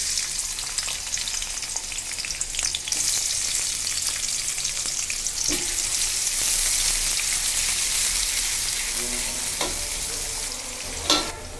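Onions hit hot oil for a puti fish curry and sizzle loudly and steadily, with occasional stirring clinks and scrapes in the pan and no talking.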